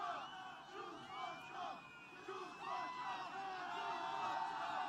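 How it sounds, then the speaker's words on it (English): A large, rowdy crowd cheers and yells at a political rally in Scranton, Pennsylvania, a continuous roar of shouts and whoops filling the space with some distance and echo. "This is a nice rowdy crowd"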